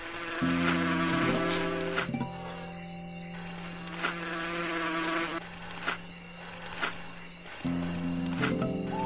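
Bees buzzing in the spider video game Arachnophilia, close droning hums that hold steady for several seconds, break off, then resume, layered over game music.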